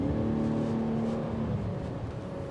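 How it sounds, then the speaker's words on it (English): 2022 Buick Enclave V6 engine accelerating, heard from inside the cabin as a steady rising hum with moderate engine tone and no talking. "You do hear that V6 engine when you push the gas."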